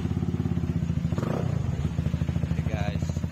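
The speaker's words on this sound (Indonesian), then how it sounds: "setelah mati baru kita nyalakan electric start." A 2020 Benelli Motobi 200 EFI with an open exhaust idles close by after an electric start, putting out a steady rhythmic low thumping with a brief clatter partway through.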